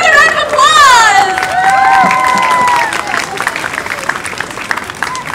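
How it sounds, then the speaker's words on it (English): A crowd at a Lunar New Year celebration in Montreal's Chinatown claps and cheers loudly, with high whoops and shouts at first, then the applause continues in a dense patter as the cheering subsides. "Let's give another round of applause!"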